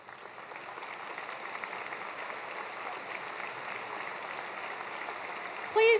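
Sustained applause from a large audience at a 2023 high school graduation ceremony, a dense steady roar of clapping that holds for the full stretch and stops abruptly near the end.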